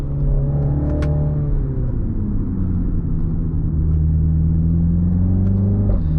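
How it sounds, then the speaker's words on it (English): A 2024 MINI Clubman JCW's engine rumbles steadily from inside the cabin, its pitch dipping and rising through quick manual-mode gear changes, with a deep, throaty exhaust note. "The gear changes are quick, they're crisp, and they give you a nice exhaust rumble for some nice audio feedback."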